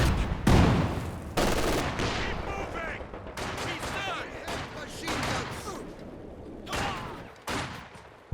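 Maxim machine gun firing in the Company of Heroes 2 video game, repeated loud bursts of automatic fire with short gaps between them, mixed with other battlefield gunfire and a commentator's voice talking over the action.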